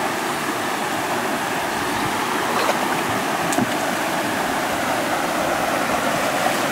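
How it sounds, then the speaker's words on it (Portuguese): Water pours steadily over a small homemade dam like a mini waterfall, a loud, constant rushing splash with a couple of faint knocks mid-way and no talking. "virou uma mini cachoeira agora"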